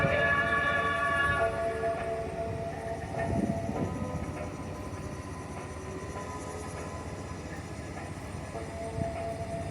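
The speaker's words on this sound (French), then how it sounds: "où nous avons repris le train pour un nouveau périple dans ce road trip au Japon" Train travelling across Japan on a road trip, a steady rumbling ride with a continuous low roll and faint tonal hum throughout, moderately loud and close, with no talk.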